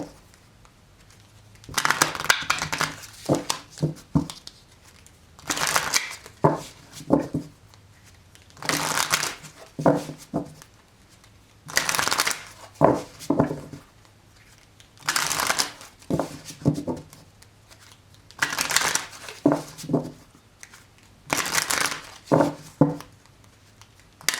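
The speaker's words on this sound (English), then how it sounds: "One more shuffle." Tarot cards shuffled by hand in repeated bursts, each riffle a crisp papery flutter lasting about a second, separated by short pauses, close and moderately loud with no talking.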